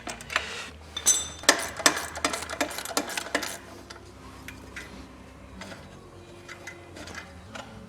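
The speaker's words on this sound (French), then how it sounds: "Clé plate à cliquet, ça va très très bien." Ratchet wrench turning bolts while a gearbox is removed from a Peugeot 206 with a TU5JP4 engine: a run of sharp metallic clicks and clanks in the first few seconds, then quieter scattered ticks.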